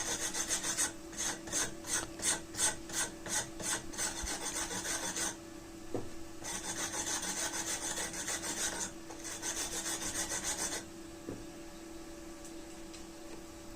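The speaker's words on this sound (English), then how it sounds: "First I am going to clean my weld area so you can see it clearly" Abrasive cleaning of a flux core weld area on a steel car body panel, a rhythmic rasping scrape in repeated strokes, fast bursts at first then longer sustained passes separated by short pauses, close and fairly loud.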